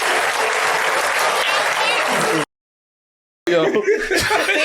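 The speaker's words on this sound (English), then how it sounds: "what y'all clapping for?" Audience applause mixed with laughter, a dense clapping wash that cuts out abruptly, then returns with chuckling and talk over it.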